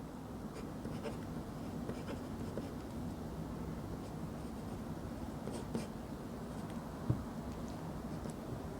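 A math formula written by hand, pen scratching on paper in soft, irregular strokes, faint and close, with a low background hum.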